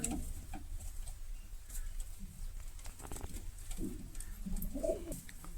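Soft, low coos from a Girebaz pigeon repeat near the end over a steady background hum, with faint rustling earlier. No one speaks.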